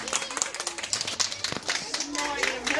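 An audience claps at a kindergarten graduation in Stara Zagora, a brisk patter of hands with sharp individual claps, heard under a voice talking.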